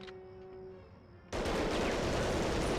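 A German MG nest opens up in the WWII shooter Medal of Honor Underground: after a quiet stretch with a low hum, a sudden loud, sustained burst of rapid machine-gun fire takes over and keeps going.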